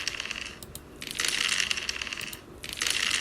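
Dice rolling in an online classroom board widget, a bright rattling clatter in several bursts with short pauses, close and fairly loud, no speech.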